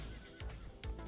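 A horse in a video game neighs in two short whinnying bursts over a low rumbling background, brief and fairly close.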